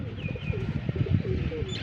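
Pigeons coo in low, soft, rolling calls, several birds close by, with faint chirps and a quiet voice in the background.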